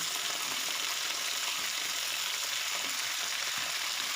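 Vegetables for vegetable khichdi fry in oil, with a steady, dense sizzle that holds evenly throughout and a faint scrape of stirring underneath, alone with no voices.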